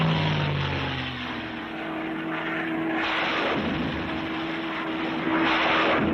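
A World War II P-51 Mustang fighter-bomber's piston engine drones steadily with a propeller, loud and continuous, holding a constant pitch as the sound swells slightly and fades over the few seconds, with no voices present.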